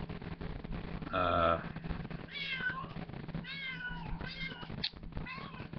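A cat meows several times close by, a string of short, insistent cries with a brief burst of background noise.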